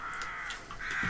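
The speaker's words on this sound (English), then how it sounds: "the hundreds of birds out there" Crows cawing from a large flock of hundreds of birds outdoors, several harsh caws overlapping at moderate distance over a steady background hiss.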